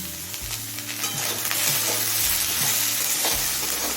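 Beans and eggplant fry with turmeric and salt in a pan, giving a continuous loud sizzle with intermittent scraping and stirring knocks from a utensil close by.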